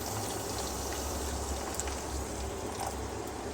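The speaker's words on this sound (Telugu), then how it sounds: "ఇప్పుడు వాటర్ వేస్తున్నా." Water pours steadily into a cooking pan with a continuous, moderately quiet gushing splash and no pauses.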